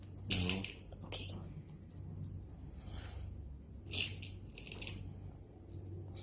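Small air rifle pellets being loaded one by one into a magazine, producing faint, irregular metallic clicks and ticks close by, with a low steady hum and quiet talk in the background.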